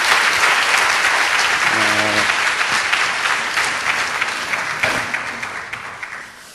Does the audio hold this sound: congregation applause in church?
yes